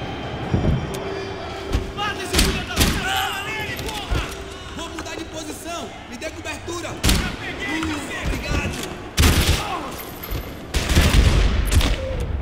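Game gunfire rattles in irregular loud bursts and heavy thumps, near and punchy, with people talking over and between the shots.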